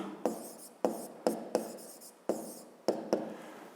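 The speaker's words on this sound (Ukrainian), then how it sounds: "Ну а зараз записуємо так, маємо." Pen scratching on paper while a maths exercise is written out, with sharp taps at the start of each stroke followed by short scraping strokes, close and distinct, with no talk.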